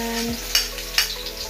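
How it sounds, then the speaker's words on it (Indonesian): Crackers fry in hot oil with a steady sizzle, while two sharp clinks of a utensil against the pan stand out close by. "Sambil nunggu minyaknya panas, saya mau goreng kerupuk"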